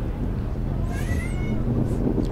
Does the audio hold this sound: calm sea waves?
no